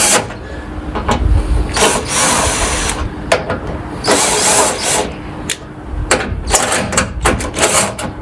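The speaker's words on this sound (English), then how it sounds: "Let's get the drill and do them up with that, be quicker." Cordless power drill running in repeated bursts as it spins bolts tight, loud and close, with short whirring runs separated by brief pauses.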